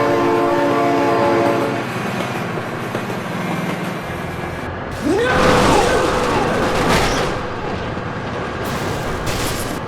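A train in the driving game BeamNG.drive rumbles past loudly, its horn blaring in sliding, falling tones as it passes over a steady roar of rolling wheels and engine noise.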